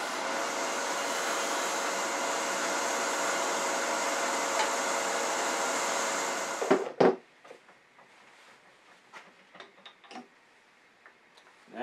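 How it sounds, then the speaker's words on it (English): A metal lathe runs with a steady whirring, hissing peeling cut while turning a mandrel, then stops abruptly, leaving quiet clicks and small handling sounds. "I'm just going to do a little bit of a peeling cut here."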